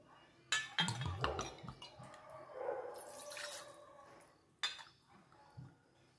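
Water is poured from a bowl into a pan while making mango sheera, with splashing gushes and clinks of metal cookware in a few bursts, quiet kitchen noise between them.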